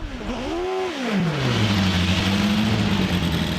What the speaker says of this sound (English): It's a Formula 3 car coming to the line now. A Reynard in fact